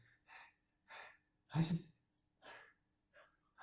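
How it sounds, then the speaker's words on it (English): Heavy, panicked breathing in a zombie apocalypse audio drama, a close run of ragged gasping inhales and exhales in uneven rhythm, with one louder, harsher gasp in the middle. "this heavy like panicked breathing comes through"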